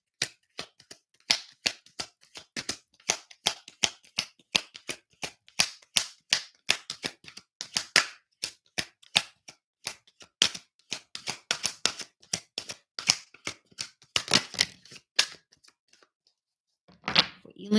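Tarot cards being shuffled by hand in a steady run of crisp riffling clicks and slaps, close and fairly loud, pausing briefly near the end before a final snap.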